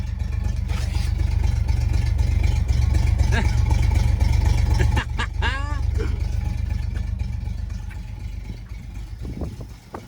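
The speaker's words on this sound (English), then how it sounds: "I mean, this is a 6-cylinder, right?" A 1970 Chevrolet Chevelle barn find's six-cylinder engine running close by, a steady low rumble that drops and slowly fades toward the end, with voices talking over it.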